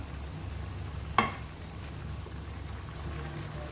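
A fried fish head simmers in boiling braising sauce, a quiet steady bubbling sizzle with one sharp clink near the start, close and faint.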